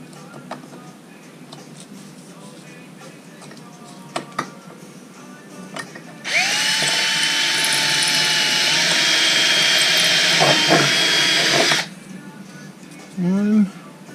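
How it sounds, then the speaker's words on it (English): A power drill pre-drilling small holes in a Hummer H3 hood for handle installation, a loud whirring burst of about five seconds that winds up and cuts off, framed by small taps and handling noises. "we're going to pre-drill these holes a small bit"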